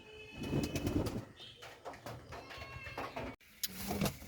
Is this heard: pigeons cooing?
yes